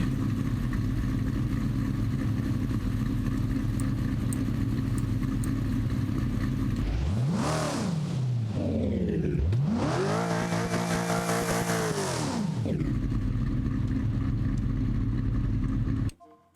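Revving car engine in a Sega Dreamcast racing video game, a loud continuous roar that climbs twice in sharp rising sweeps of acceleration, held high for several seconds before cutting off abruptly.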